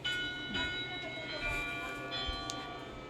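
Metallic bell tones ringing with sustained, overlapping pitches, struck several times over a busy background.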